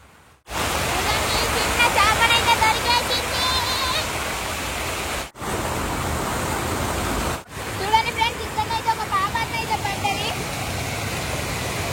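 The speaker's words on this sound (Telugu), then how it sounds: "చూడండి ఫ్రెండ్స్, వాటర్ అయితే ఇన్నైతే పోస్తున్నాయి." Rainwater gushes strongly at a fishing spot, a loud steady rush of flowing water filling the whole stretch, broken by two brief gaps, with no talk over it.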